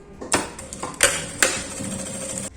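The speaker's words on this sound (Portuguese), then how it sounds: "agora vamos fazer uma costura com um pé de máquina" A sewing machine stitches fabric with the regular presser foot, giving a near, steady mechanical whir for about two seconds with a few sharper clacks at the start and along the run.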